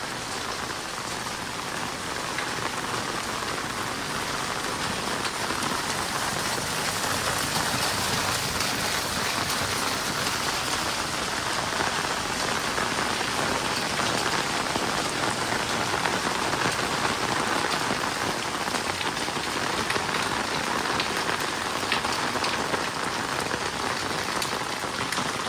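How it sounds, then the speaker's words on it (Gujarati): A heavy downpour of rain in Ambaji, a loud, dense and unbroken roar of water drumming on surfaces that holds steady from start to finish, with no voices. "અંબાજી ધોધમાર વરસાદ પડે છે."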